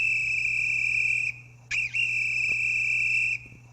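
Electronic chirping tone from the speaker of a Roku TV remote's finder feature: a steady high-pitched warble that cuts off and comes back with a short rising blip, over a low hum.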